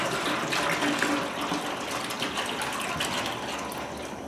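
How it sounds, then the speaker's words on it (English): Liquid pours steadily into a catch pan in a Cajun Bandit smoker before smoking beef brisket, a continuous splashing gush, close and fairly loud, without pause. "Pour some liquid in there."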